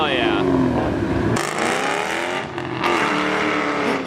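A Mazda RX-7 FD rotary engine revs hard as it leaves a car meet, with rising and falling engine tones and quick breaks between gear shifts, while people talk and cheer close by over the sound.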